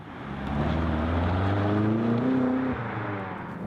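A BMW M5 or M550i sedan pulls hard from 80 to 180 under manual shifting, its engine note climbing steadily in pitch before a gear change near the end, loud and continuous with no talking.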